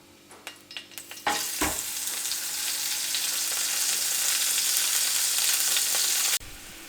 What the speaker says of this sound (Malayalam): ചൂടായി വന്ന് കഴിഞ്ഞ് കഴിഞ്ഞാൽ നമുക്ക് നമ്മുടെ പനീർ ഇട്ട് കൊടുക്കാം